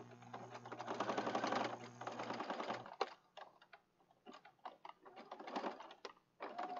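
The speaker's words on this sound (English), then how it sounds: "Sewing through denim. It's thick." Sewing machine stitching through thick denim, a steady dense whir for about three seconds, then halting, irregular bursts of stitching with brief pauses as the needle catches.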